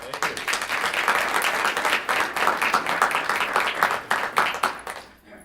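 A room of people at a school board of education meeting bursts into loud, sustained clapping that fades away near the end.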